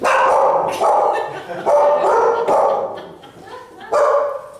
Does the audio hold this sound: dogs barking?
yes